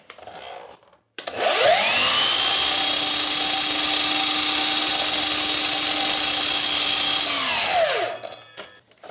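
A power saw cuts through a length of wainscoting molding, trimmed slightly long: a loud, steady whine that spins up, holds for about six seconds, then winds down, with no talking.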